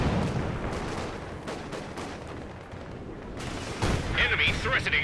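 Sustained infantry support gun fire in Company of Heroes 2 rattles on continuously while Royal Engineers try to repair under it, the bursts swelling louder toward the end amid thick battle noise.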